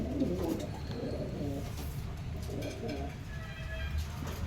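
Pigeons of various sizes, including white and satin birds, coo in a home pigeon loft, a steady low murmur of cooing running throughout, fairly close, with soft rustling and faint background noise.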